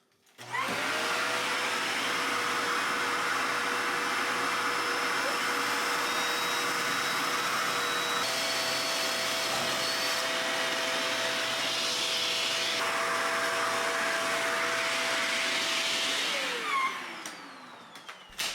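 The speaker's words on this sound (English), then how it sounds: "I used a vacuum to minimize the mess." A vacuum cleaner whirs loudly and steadily for the whole stretch while clearing drilling debris from kitchen cabinets, with a constant high whine, then winds down at the end.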